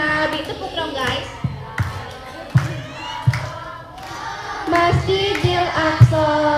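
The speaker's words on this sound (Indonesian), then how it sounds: "Tepuk dong guys." Children clap together at an Isra' Mi'raj commemoration at a Daarul Qur'an girls' school. Sparse, sharp claps land every second or so beneath children's chanting voices.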